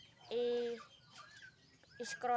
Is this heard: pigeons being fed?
yes